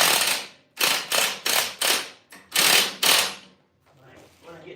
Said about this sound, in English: I'll go back through and torque all these.